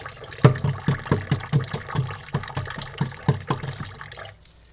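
Water trickles from a kitchen tap while hard-boiled eggs are peeled under it, a steady run of close, rhythmic drips and splashes that stops abruptly near the end.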